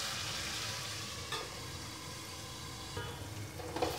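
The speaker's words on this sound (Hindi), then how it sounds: "मसाले को ढक के हमको 5 से 10 मिनट तक अच्छे से भूनना है" Chole masala spices fry in a covered pan, a steady close sizzle with soft stirring scrapes and brief clinks near the end, no voices.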